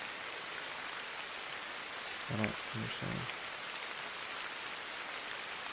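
Steady soft rain playing as calming background audio, a constant even hiss of drops that stays faint beneath a brief spoken remark in the middle.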